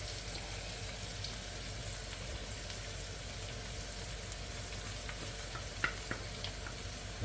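Minced garlic fries in a pan for a French beef stew, giving a steady, moderate sizzle that runs the whole stretch, with one brief sharper pop near the end.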